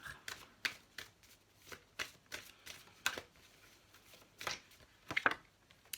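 Tarot cards shuffled and drawn by hand, a run of soft, papery riffles and flicks coming in short separate bursts, close and quiet.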